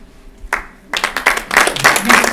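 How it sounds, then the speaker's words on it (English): Audience at an author talk breaks into premature clapping: a single sharp clap, a brief lull, then a burst of scattered, loud claps building unevenly over about two seconds. "Premature clapping."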